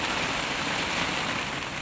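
Heavy rain pours down steadily in a dense, unbroken hiss, loud and close with no letup, recorded outdoors at a hacienda during a strong storm.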